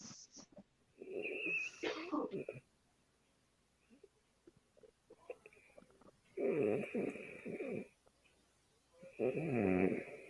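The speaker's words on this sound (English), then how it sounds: "I thought I heard somebody snoring." Loud snoring in repeated rasping bursts with pauses between them, near and clear, with faint background noise between the snores.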